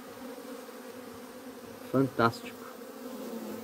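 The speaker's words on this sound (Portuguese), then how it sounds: "Essa é a comunicação da abelha Apis para mostrar para as outras que estão chegando que a rainha está lá dentro já." An Apis honey bee swarm hums steadily close by, a dense continuous buzz as the bees signal that the queen is already inside, with two brief bursts of speech over it midway.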